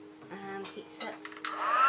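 A heat tool blows hot air over folded paper to heat-set the creases. After a few spoken words, its steady whooshing airflow rises midway and keeps building to the end.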